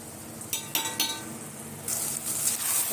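Okra sautéing in oil in a pan for a tamarind curry: a few clinks of a utensil against the pan early on, then a steady close sizzle swelling up and holding, with no talking.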